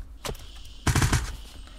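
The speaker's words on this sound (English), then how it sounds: "This guy really shooting me with a flare again." Shots from a flare gun in the video game Unturned: a single sharp report followed by a quick rapid burst of several bangs, loud and close, with no talking.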